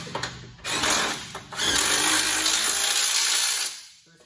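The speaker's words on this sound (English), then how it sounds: "using an 18 millimeter socket on a 3/8 inch drive impact." A 3/8-inch drive impact wrench with an 18 mm socket tightens the nuts holding a steel bumper to a Jeep Rubicon's frame, giving a loud, close, sustained mechanical whir of about three seconds after a few brief bursts.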